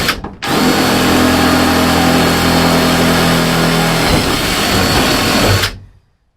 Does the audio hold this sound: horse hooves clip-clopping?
no